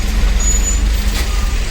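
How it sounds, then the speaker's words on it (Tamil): Loud Bangalore road traffic near Electronic City, with a heavy bus or truck engine rumbling close by and a brief hiss like an air brake release. "பெங்களூர்னாலே டிராஃபிக் தான்."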